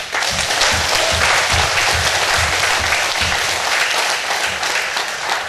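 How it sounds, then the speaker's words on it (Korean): Church congregation applauding loudly and steadily during an evening healing revival service for pastors and their spouses, a dense, continuous wash of many hands close by with a low murmur of voices underneath. "영광의 박수 한번 주세요"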